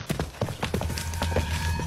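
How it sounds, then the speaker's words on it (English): Hooves clop rapidly and unevenly on hard ground, several horses close by moving restlessly. "The horses get spooked again."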